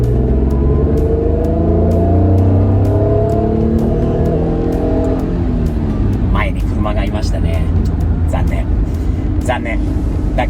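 A 1991 Honda NSX with only 7,500 miles drives onto a highway, its engine note rising through the gears and loud inside the cabin, with clicking sounds and people talking over it.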